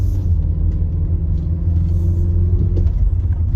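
A Mark 4 Ford Fiesta rolls along with a steady, loud low-pitched rumble heard from inside the car, an even drone with no talking.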